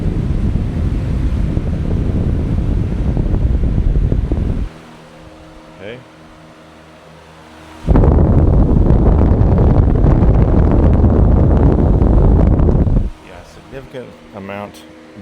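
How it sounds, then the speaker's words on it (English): A Harbor Freight fan blows straight onto a microphone, producing loud, roaring wind buffeting in two long bursts, separated and followed by quieter stretches where the fan's steady whir is heard without the wind rumble. "I'm gonna stick it in front of the fan. We'll see how much noise the wind causes across the microphone."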